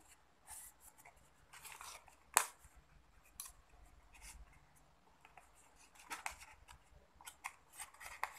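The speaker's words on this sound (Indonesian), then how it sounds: "Lalu kita gunting." Scissors snip through material while building a hydraulic robot arm from IV tubing and syringes, giving a few quiet crisp cuts with one sharp louder snip, close up and alone in a quiet room.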